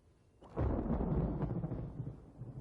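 Rumbling thunder effect from the Dreams game on PS4 swells in abruptly after a quiet start, then rolls on loud and broad before slowly easing off, with no one speaking.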